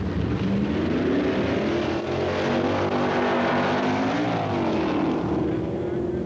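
Two 1965 super stock drag cars, a Dodge and a Chevy, roar down the strip with loud, sustained engine noise that climbs and shifts in pitch, while an announcer's voice runs over the top.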